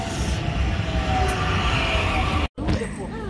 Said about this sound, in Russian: Вот и трамвай мой приехал.